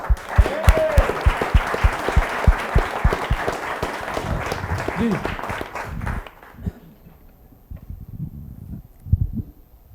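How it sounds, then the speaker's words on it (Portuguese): Audience applause at a talk on pension reform, vigorous clapping from a crowd that fades after about six seconds, with a voice and scattered claps continuing afterward. "uma salva de palmas para vocês aí"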